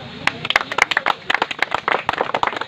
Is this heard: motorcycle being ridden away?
no